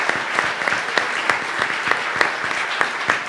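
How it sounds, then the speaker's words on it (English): A church congregation at a Sunday service applauds military veterans, with steady clapping that carries sharp, distinct claps through the wash and stays fairly even across the short stretch. "Let's give them a round of applause."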